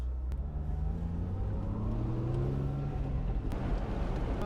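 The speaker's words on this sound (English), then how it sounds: "About to pull out on a 4-lane, and I have no fear that I'll be able to get out in front of whatever vehicle" A lifted 1999 Jeep TJ with longarm suspension and an 8.8 axle pulling out onto a four-lane road, its engine humming steadily and rising slightly in pitch under road rumble and wind, heard from inside the cab.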